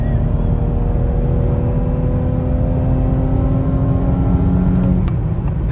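An Audi S4 B9 Avant pulls hard on a derestricted Autobahn, a steady loud engine drone with road and wind roar heard from inside the cabin as the car accelerates, and no talking.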